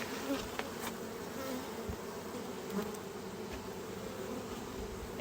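A honeybee buzzes close up against a beekeeper's veil with a steady hum that wavers slightly, against a quiet outdoor background.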